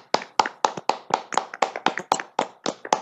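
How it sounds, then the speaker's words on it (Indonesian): Students in a classroom clap their hands in a brisk, steady run of about a dozen sharp claps, close and distinct against a quiet background. "tepuk tangan atas kerjasamanya, diskusinya yang sudah aktif"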